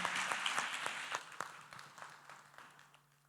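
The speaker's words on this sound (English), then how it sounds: "please join me with a round of applause for the young people here on the stage" Scattered clapping from a small audience for young people on a stage, distinct individual claps forming an uneven rhythm that thins out and fades over a few seconds, fairly quiet and distant.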